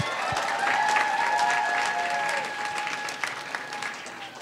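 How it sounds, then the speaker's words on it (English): A film festival audience applauds its entrants, with sustained dense clapping and a few whistles and cheers. The applause thins slightly toward the end. "one more round of applause for all of our entrants this year."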